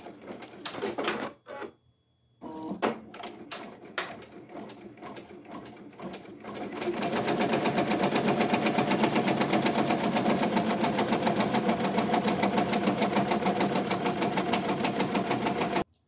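An embroidery machine stitches 3D puff embroidery on a hat, starting with a few stop-and-go bursts and then running in a loud, steady, rapid mechanical rhythm up close.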